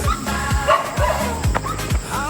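A large dog barks in a quick run of about six sharp, evenly spaced woofs, close and loud, with faint background chatter.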